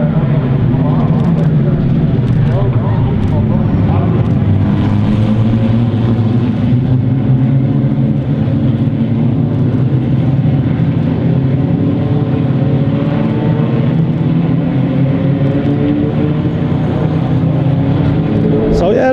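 Formula Vee race cars pull away together at a restart after a safety car period in Irish racing, a loud, continuous drone of several small engines rising in pitch with shifting overlapping tones as the field accelerates.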